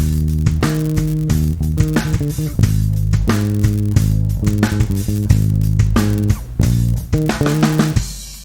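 Bass guitar groove plays in full context with a backing track, a steady pulsing low line under repeated drum hits and chords, loud and continuous throughout.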